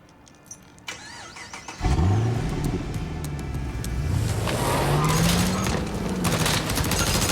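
Rapid gunfire in a video game rattles around a Lamborghini, the loud bursts layered over a steady, mid-pitched engine drone that swells and holds close.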